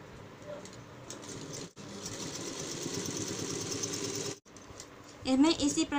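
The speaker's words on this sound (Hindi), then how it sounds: "हमें इसी प्रकार से इसकी स्टिचिंग कर लेनी है।" A sewing machine stitches the folded waistband casing of a cotton petticoat, running in two steady bursts with a short pause between, close and continuous, then a voice speaks near the end.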